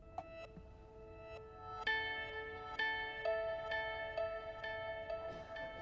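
Pitch-shifted guitar strum sample with reverb and delay, a few faint plucked and strummed chords ringing out in sustained, echoing layers, with no talk.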